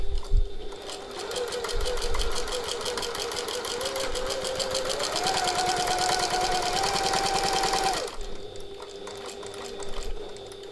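Home sewing machine running a long side seam on a tote bag, a loud, close, rapid even clatter of the needle that speeds up in the middle, holds for several seconds and then stops dead, with no speech.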